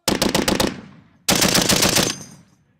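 Two loud, close bursts of rapid automatic fire from a powerful US military machine gun on a firing range, each lasting under a second with a fading echo, separated by a short pause.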